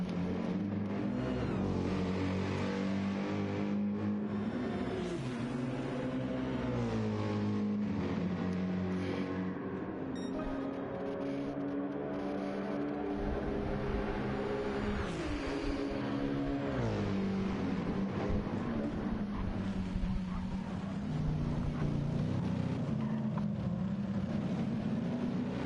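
A Ferrari race car at the Nürburgring 24-hour race screams down the straight, its engine note rising and falling through gear changes and layering with other cars in a continuous, loud roar.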